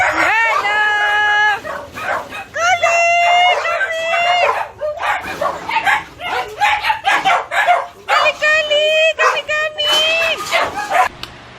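Several dogs bark, yip and whine again and again in close, loud bursts, with a person talking among them.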